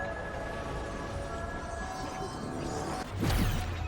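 Train moving in the video game Destiny 2: a steady low rumble and hum with a sudden louder swell of rolling and rattling near the end, no talking.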